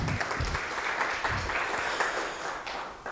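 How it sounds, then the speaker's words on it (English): An audience at a research and innovation chair lecture claps for a speaker in a steady, dense round of applause lasting throughout, fairly close and even in loudness. "Please give her a round of applause."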